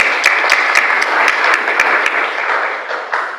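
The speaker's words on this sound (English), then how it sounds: "A round of applause." Steady, loud applause from a conference audience at a climate finance event, sustained clapping filling the room for a few seconds before tapering slightly.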